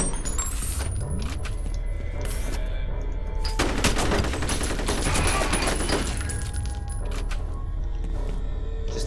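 Shotgun blasts and heavy gunfire in the first-person shooter FEAR, a dense burst of shots with mechanical clatter and a loud sustained stretch mid-clip, no voices.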